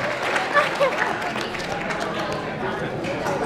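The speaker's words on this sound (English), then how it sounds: "Let's give Kahiva from Kapua and her sister Rahul another round of applause." Banquet audience at a high school swim team dinner applauding, a steady wash of clapping with chatter and voices mixed in throughout.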